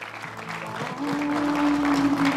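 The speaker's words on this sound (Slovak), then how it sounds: "Dámy a páni, obrovský potlesk pre pána Ivana Martinkoviča" An audience at a sports tournament held in memory of Ivan Martinkovič breaks into applause, dense clapping that swells over a sustained low musical tone.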